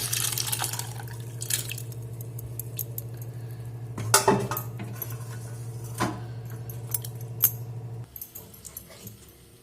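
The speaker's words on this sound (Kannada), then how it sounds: "ಬೇಯಿಸಿದ ಪಡವಲಕಾಯಿ ಹಾಕ್ತಾ ಇದ್ದೀನಿ" Boiled ridge gourd going into a pot on a lit stove, with metal utensil clinks and scrapes against the vessel over a steady low hum, a few sharper knocks standing out, no speech.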